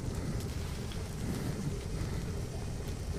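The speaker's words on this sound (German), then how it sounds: "Es regnet Blut." Blood rains down in the video game Metro Last Light, a steady wash of dense rain-like noise with a low rumbling, stormy undertone, continuous and even throughout.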